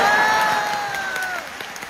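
A crosstalk audience bursts into applause, a broad, dense patter of many hands that fades slightly over two seconds, with a held vocal tone gliding under it.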